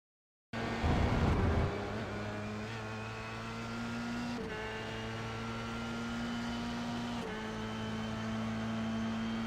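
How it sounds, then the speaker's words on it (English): A Formula 3 car finishes a lap of Road Atlanta in a racing simulator. The steady, buzzing engine tone holds high, with brief dips at a couple of gear shifts, and plays alone without any talk. "So let's have a listen for Max to end this lap"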